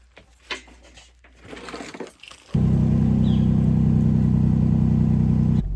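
A car's engine runs steadily and loudly while driving, a constant low drone that starts abruptly after a few seconds of quieter handling noises and continues without talk.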